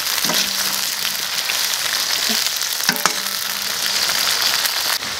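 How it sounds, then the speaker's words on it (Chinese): Eggplant and green beans deep-frying together in a wok of hot oil, a steady dense sizzle and crackle throughout with a few sharper pops and stirring clinks, loud and close with no talking. "现在再把这茄子啊下锅炸，一起炸。"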